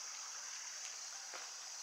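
A river flows beneath a covered bridge, giving a faint, steady hiss of moving water with no speech.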